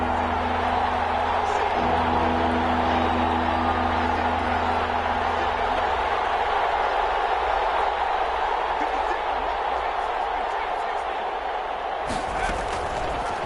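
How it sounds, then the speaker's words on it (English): A football stadium crowd roars through a big third down in a Panthers game, a dense, loud wash of cheering and noise that swells and holds before a sharp burst near the end. "The crowd getting into it as we come up on a big third down."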